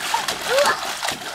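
A child splashes in a backyard swimming pool on an early summer day, producing short, close bursts of water splatter mixed with children's excited voices.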